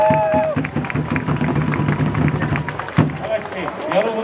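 Baseball crowd clapping in the stands at an LG Twins game, steady applause and crowd noise under amplified talk and bursts of cheering.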